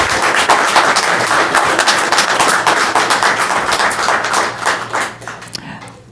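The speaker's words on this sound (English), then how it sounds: "even asking everybody not to applaud, y'all were going to do it anyway" Audience applause breaks out in a city council session, a burst of many hands clapping loudly and densely, then thinning and fading away toward the end.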